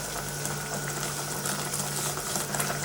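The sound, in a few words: vegetable soup bubbling in the pot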